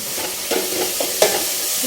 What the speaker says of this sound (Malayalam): ചിക്കൻ ഇവിടെ റെഡി ആയിക്കൊണ്ടിരിക്കുകയാണ്. വറുത്തിട്ട് കറി വെക്കാൻ വേണ്ടി